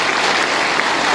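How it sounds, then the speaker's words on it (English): Loud, sustained crowd applause at a community block inauguration ceremony, many hands clapping densely and evenly, close and filling the space. "let's give him a round of applause"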